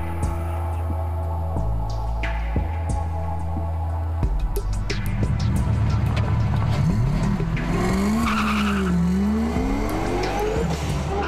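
Street race car running on unleaded fuel at the Snowy Mountains 1000: a loud, continuous engine drone close by, with revs rising and falling through gear changes and a squeal of tyres, no voices.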